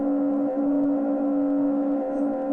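A sonified chaotic motion of a ball bouncing around plays as a continuous buzzy hum with a steady low pitch and a shifting rough texture, moderately loud and unbroken.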